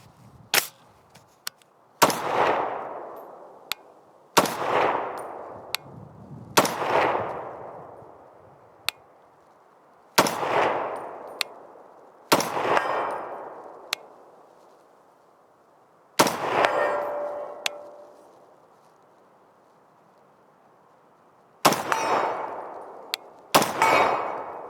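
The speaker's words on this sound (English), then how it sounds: "Now we got 10 rounds of PMC Bronze loaded up. We'll do some standing shooting." Ruger SFAR rifle firing PMC Bronze rounds while standing and ringing steel targets: sharp, loud single shots in irregular bursts, each with a trailing echo and frequent metallic pings from the steel, roughly ten reports across the string.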